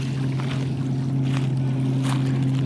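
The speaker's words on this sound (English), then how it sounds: "We started hearing the boats running before it was even light out." Steady low drone of early-morning fishing boat engines running on an Ozarks lake, continuous, with wind and faint water noise mixed in.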